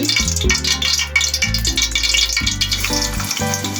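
Chopped onion and cardamom frying in oil for white pulao, a loud, steady sizzle with stirring scrapes throughout, close and uninterrupted, no talk.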